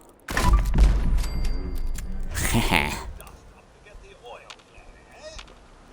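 Grenade launcher firing in Fallout 4: a sharp, loud blast with heavy thumping, a second boom a couple of seconds later, and a voice briefly heard between the shots before the sound fades to quieter rattles.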